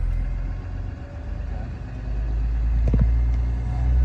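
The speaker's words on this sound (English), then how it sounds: "I have to take my foot from the brake for the fast idle to kick in" A school bus diesel engine idles steadily in the foreground, its low rumble holding even and rising a little toward the end as the fast idle engages, with a brief mechanical clunk near the three-second mark and no talking.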